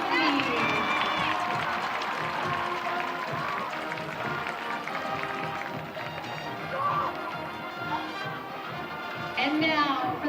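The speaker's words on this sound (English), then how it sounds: "Let's give another round of applause to all of our Eastview Homecoming nominees." Stadium crowd at a high school football game applauding homecoming nominees, a broad, distant wash of clapping and cheering that runs steadily throughout, with voices mixed into the din.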